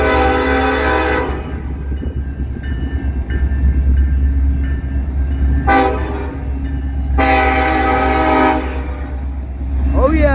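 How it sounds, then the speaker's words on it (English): A CN freight train led by SD70ACe and ES44DC locomotives passes at Trenton, sounding its horn in several loud blasts over a steady rumble of engines and rolling cars. "right when I just got here, a train just started coming"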